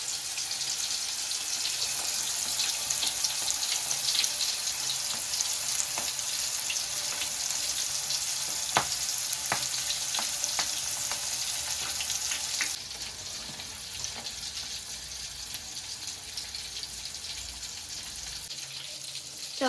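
Glass rock fish frying in hot oil, giving a loud, continuous bubbling sizzle with occasional sharp crackles that eases slightly partway through.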